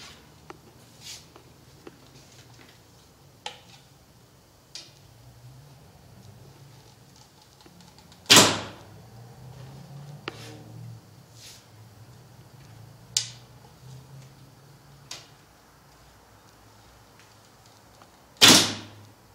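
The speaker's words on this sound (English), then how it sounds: "I'm going to go ahead and shoot a couple arrows, and while doing so I'm going to listen for the noise" Arrows loosed from a Hoyt Buffalo bow while tuning brace height, giving two sharp, loud string-release thwacks about ten seconds apart, with faint clicks and light rustling in a quiet setting between them.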